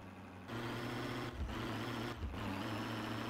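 A car called the Wolf Wagon, its engine running steadily as it pulls away and drives, with a low, continuous drone that shifts in pitch through a couple of brief gear-change dips.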